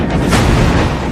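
A drone strike detonates on a Ukrainian armoured vehicle, a dull, sustained explosive boom that rolls on for about a second at steady loudness with no voices.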